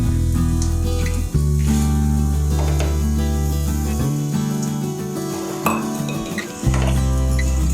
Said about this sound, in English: Now I am going to mix it.